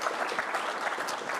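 Audience applause at a talk about a large virtual reality experience: a short, even burst of clapping from a room crowd, moderately quiet and without a clear beginning or end.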